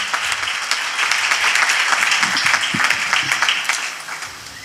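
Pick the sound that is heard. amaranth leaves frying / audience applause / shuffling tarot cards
audience applause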